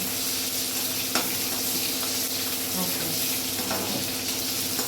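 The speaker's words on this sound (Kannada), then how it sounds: "ಇದು ಚೆನ್ನಾಗಿ ಗೋಲ್ಡನ್ ಫ್ರೈ ಮಾಡಿಬಿಟ್ಟು ಅದು" Onion tempering sizzles and fries in a pan for vegetable sambar, a steady close crackling hiss with occasional stirring scrapes of a spoon.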